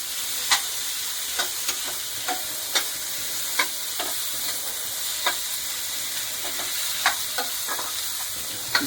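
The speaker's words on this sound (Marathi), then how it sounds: "आपण आता चणे टाकलेत आणि ते व्यवस्थित परतून घेतोय." Chickpeas are sautéed in a pan for an onion- and garlic-free chana masala, with a steady sizzle and frequent sharp scrapes and clinks of a spoon stirring, close and alone without speech.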